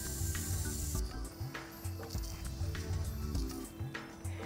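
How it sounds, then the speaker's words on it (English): A steady airy hiss of an airbrush spraying, continuous and close, with faint sputters and clicks underneath. "turn your airbrush on, and spray the makeup out"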